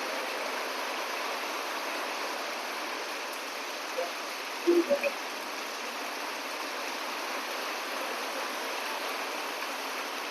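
Heavy rain pours down steadily at a Hindu temple, a dense, even hiss that carries on throughout with a few faint knocks near the middle.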